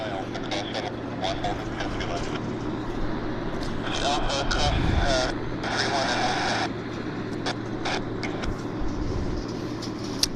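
Korean Air airliner on its takeoff roll at Vancouver airport, a steady distant jet engine rumble and roar that swells midway, with people talking over it throughout.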